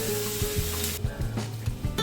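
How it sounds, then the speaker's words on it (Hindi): Punjabi kadhi curry bubbles and sizzles steadily in a pot, close by, with a few soft knocks and stirring sounds and no voices. "कढ़ी उबल रहा है हमारा।"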